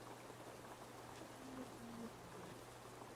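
Rain falls in a forest in an audio drama, a faint, steady patter with a low hum beneath and a few soft tonal sounds in the middle.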